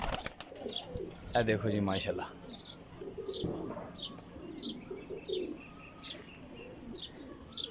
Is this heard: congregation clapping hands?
no